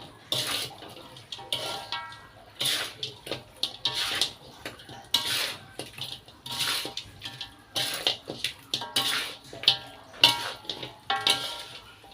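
Chicken stir-fried in a pan after seasoning with seasoning powder, heard as repeated metallic scrapes and clanks of a spatula against the pan in irregular bursts, close and fairly loud, with brief pauses between strokes.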